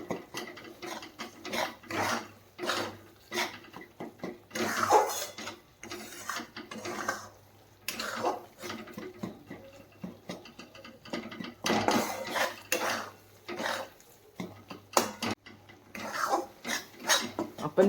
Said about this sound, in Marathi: आणि असंच आपण आणखीन 5 मिनिटं रवा परतून घेऊयात.